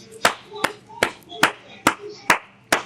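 Seven sharp hand claps ring out close by at a slow, steady pace, each one crisp and separate with short quiet gaps between them.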